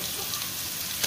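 Garlic frying in a pan, a close, continuous sizzling hiss with small crackles, brief and steady, with no talking.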